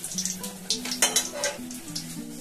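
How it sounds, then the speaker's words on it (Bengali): Traditional Bengali sweets fry in oil in a pan with a steady close sizzle, broken by occasional clinks of a utensil against the pan. "তো আমি এইভাবে ভেজে নিচ্ছি।"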